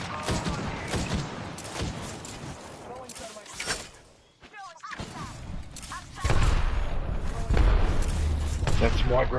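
Grenade blasts in Apex Legends boom out as heavy thumps amid ongoing firefight noise, loud and near, with people chatting over the action.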